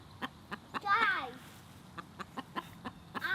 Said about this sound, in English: So, chickens are back.